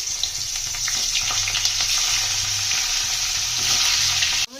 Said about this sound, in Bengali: তেলেই ফুলকপিগুলো একটু ভেজে নেবো